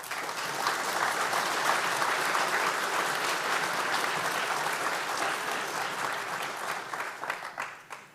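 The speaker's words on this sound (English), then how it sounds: "he deserves the round of applause" A large audience at the 2023 Riga Business School commencement applauds in a dense, even roar of clapping. It holds steady for about seven seconds, then thins and fades out toward the end.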